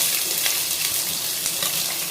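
Thinly sliced onions hit hot oil with tempering spices for a coriander curry, a loud, constant sizzle and crackle with occasional sharper pops, close up and without voices.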